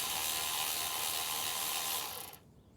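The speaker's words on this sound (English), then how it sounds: "using a small ratchet to actually get the bolts out" A small ratchet spins in a rapid continuous clicking whir while backing out front driveshaft bolts on a Jeep JK, close and quiet, stopping abruptly near the end.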